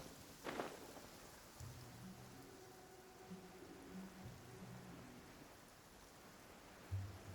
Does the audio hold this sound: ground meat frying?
no